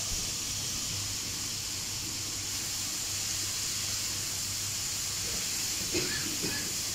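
Chicken dropped onto sautéed vegetables in a pan for fajitas, a constant steamy hiss with faint scraping and light clatter near the end, no voices.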